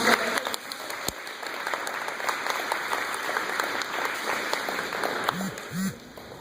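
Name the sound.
audience applauding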